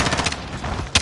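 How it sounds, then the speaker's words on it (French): Rapid bursts of automatic gunfire in a video game crackle in quick succession, ending in a sharp loud shot, with no talking. "Les coups de feu, bien sûr."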